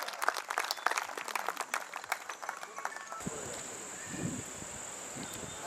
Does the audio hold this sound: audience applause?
yes